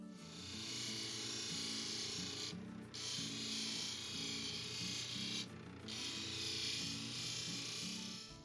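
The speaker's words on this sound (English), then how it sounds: "In order to polish a cabochon, there are 6 wheels on our machine, and Jim has to go through every single one" A cabochon polishing machine's spinning wheel works a sodalite stone with a steady, loud grinding whir that dips briefly twice as the stone lifts off, then resumes.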